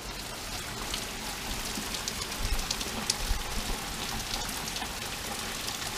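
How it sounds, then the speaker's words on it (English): Heavy rain pours down in a steady, dense hiss with scattered louder drops spattering on a surface, constant throughout with no voices. "It's been a long time since I've seen rain like that."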